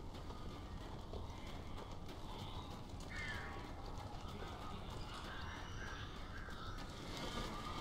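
Crows caw in the Alan Wake video game, a few short harsh calls rising at scattered moments over a dense, steady game ambience with no talk.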